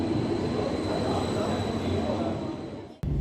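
Swiss train noise at a station platform on a freezing day, a broad steady rumble with a faint high whine throughout, ending in an abrupt cut near the end, heard without talk.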